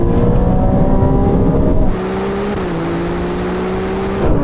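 Sports cars, a McLaren 750S, Ferrari 296GTB, Porsche 911 Turbo and Lamborghini Huracán Performante, pull hard in a third-gear roll-on from 50, with one close engine note rising, then a gear change and a steady climbing drone.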